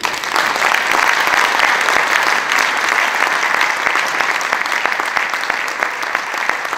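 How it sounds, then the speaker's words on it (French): Sustained audience applause at a lecture honoring two speakers, loud and continuous with many hands clapping evenly from start to finish, with a faint voice underneath. "qu'on peut applaudir"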